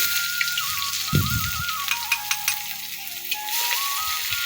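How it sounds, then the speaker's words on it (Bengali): Chopped onion sizzles in a pan with a bright crackling hiss, a brief low thud near the start and scattered light stirring taps, close and steady over a faint tonal hum. "একটু পেঁয়াজ কুচি দিলাম"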